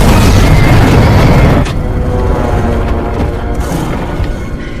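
A shot oxygen tank explodes in a film creature fight: a loud, dense boom fills the first second and a half, then drops into a lingering rumble and debris-like crackle that slowly fades.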